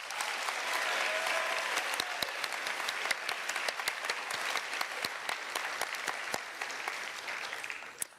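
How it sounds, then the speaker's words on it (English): An audience claps for two award recipients at a senior awards ceremony, a steady wash of many hands with crisp individual claps, sustained and moderately distant before tapering off at the end. "Could Brian and Sabrina please stand for a round of applause?"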